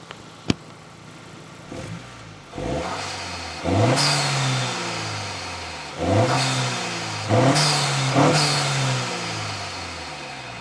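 An 11th-generation Honda Civic Si engine with a short ram intake revs repeatedly in short bursts, each rising sharply then dropping back toward idle, loud and close, with a throaty induction roar.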